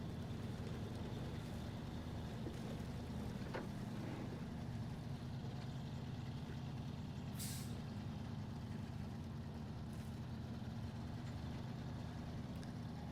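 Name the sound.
Fleet Star truck engine in video game SnowRunner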